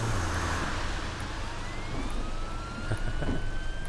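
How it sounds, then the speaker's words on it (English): An ambulance siren in the bus simulator game OMSI 2 wails faintly with a slowly rising tone over a loud, steady rumble of traffic or engine noise. "Oh, I hear an ambulance."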